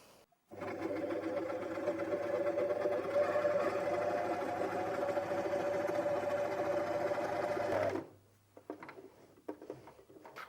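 A Janome 423S sewing machine stitches through eight layers of fabric, a close, steady mechanical hum with a fast rhythmic chatter lasting about seven seconds before stopping abruptly, followed by quiet handling sounds.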